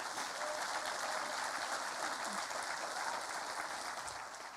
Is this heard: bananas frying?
no